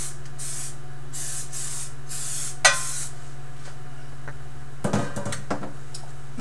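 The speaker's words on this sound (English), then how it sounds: "Get it sprayed down with some cooking spray." Cooking spray hisses onto a baking pan in several short, close bursts, followed by a metallic clink and light handling sounds in a quiet kitchen.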